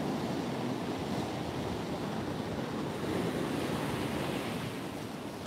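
Strong northerly wind roars across Trimingham Beach with pounding surf, a loud, unbroken wash of noise with wind buffeting the microphone throughout.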